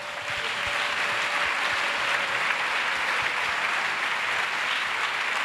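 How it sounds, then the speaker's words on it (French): A church congregation at a bilingual French-English service claps in acclamation, an even, sustained wash of many hands clapping throughout, with no voices standing out. "Acclamation. Clap."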